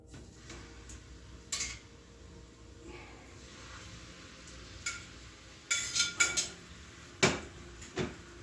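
Salmon fillets and shrimp laid face down into hot oil in a frying pan, with a few sharp clinks and clatters of pan and utensils over a steady low background, clustering toward the end.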